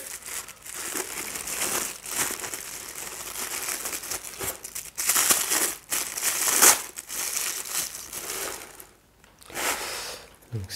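Plastic and foam packaging around a Queen Studios Spider-Man statue crinkles and rustles continuously at close range, with crumpling bursts and brief tearing sounds and a short pause near the end.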